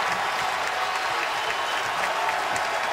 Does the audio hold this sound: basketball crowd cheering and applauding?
yes